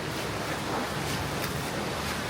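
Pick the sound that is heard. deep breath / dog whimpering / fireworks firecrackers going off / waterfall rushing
waterfall rushing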